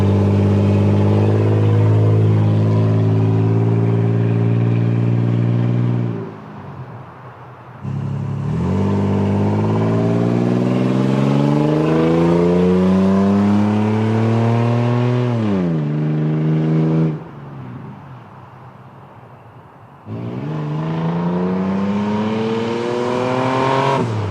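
A 2022-era Toyota 4Runner with its muffler removed revs and accelerates loudly, its engine note climbing in long pulls, easing off twice before surging again, with no talk over it.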